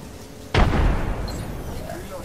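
A frag grenade blast in the Apex Legends battle royale game: one sudden loud boom that rolls off into a long rumbling decay, with faint game sounds after.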